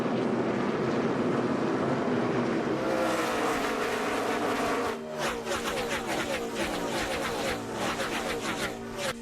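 NASCAR stock cars race at New Hampshire, a dense, loud roar of many engines at full throttle that thickens into rapid overlapping pass-bys from the middle onward.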